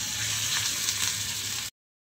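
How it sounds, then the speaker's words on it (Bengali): Cabbage fritters frying in hot white oil, a steady close sizzle and crackle that runs without a break and then cuts off abruptly. "এবার আমি সাদা তেল দিচ্ছি বড়াগুলো ভাজার জন্য"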